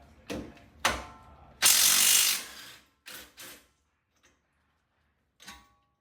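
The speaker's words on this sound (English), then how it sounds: "She's taking off the two 22mm bolts" A ratchet clicks off the 22mm brake caliper bolts on a Nissan 350Z, with several short close ratcheting bursts, one longer loud spin, then a few faint clicks.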